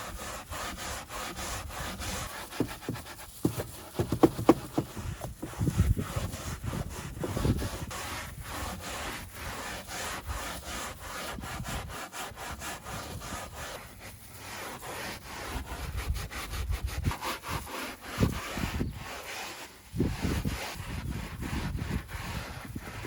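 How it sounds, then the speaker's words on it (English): Resolve carpet cleaner is scrubbed with a brush into a dirty car interior, making rough, back-and-forth scrubbing strokes. The strokes vary in pace and force and sound close up, with no talking. "So let's scrub out this Resolve and see if it looks any better."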